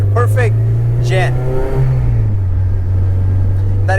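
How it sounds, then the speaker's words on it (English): A 2007 Honda Civic Si's exhaust hums in a steady low drone, held near and loud, with a brief rise in pitch partway through as voices talk over it. "That exhaust is nice on street."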